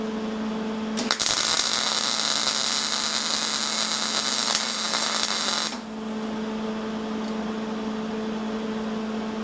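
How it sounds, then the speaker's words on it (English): Welding through E-coated, painted metal produces a loud steady crackling hiss for several seconds over a constant electrical hum, then cuts off, leaving the hum alone. "I'm going to weld through all of that."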